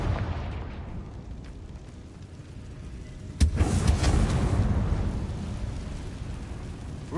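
A Confringo spell explosion in Hogwarts Legacy, a sudden blast that jolts out of a steady rumbling game background and then rolls on as a broad, sustained roar fading slowly over several seconds.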